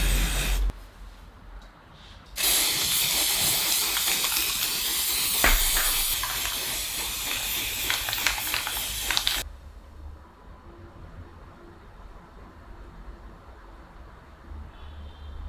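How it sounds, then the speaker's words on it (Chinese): Spray paint hisses from an aerosol can onto a white clay pot, one steady, loud burst lasting several seconds with a brief catch midway, between quieter stretches before and after. "用喷漆上色"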